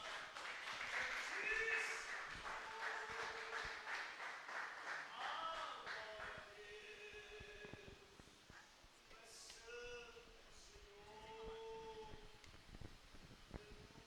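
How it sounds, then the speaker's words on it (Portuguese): Applause from a church congregation at the close of a service, a dense patter of clapping that builds early and then thins, mixed with voices talking over it. "E aplaudimos o Senhor mais uma vez."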